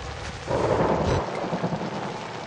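Rain and thunder in the horror game Outlast: a deep rumble of thunder rolls in over a steady hiss of rain and then fades, leaving the rainfall pattering on alone.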